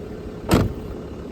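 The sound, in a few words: car power window rolling down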